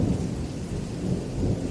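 Steady heavy rain with rolling thunder rumbling low throughout, a dense continuous storm wash with no voices.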